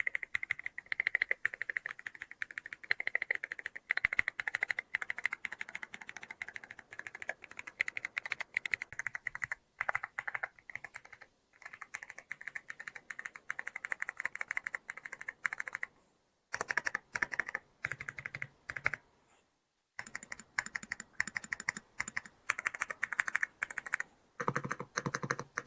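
Quiet, steady typing on a mechanical keyboard with magnetic switches: rapid close keystroke clicks in long runs, separated by a few brief pauses.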